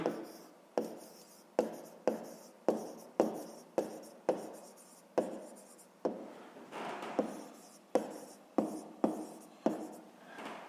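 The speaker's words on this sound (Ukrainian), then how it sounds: "Пишемо неправильні дроби." Fractions are written by hand on paper, with a regular series of quick pen strokes and taps, each a short scratchy burst, close and clear with no talking.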